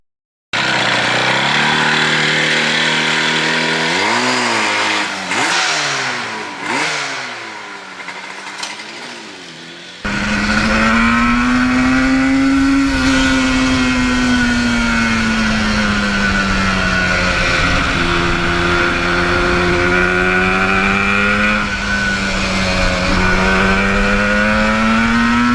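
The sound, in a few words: restored 1977 Yamaha RD400 race motorcycle engine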